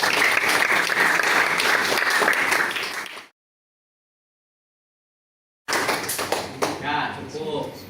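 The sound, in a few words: applause for a student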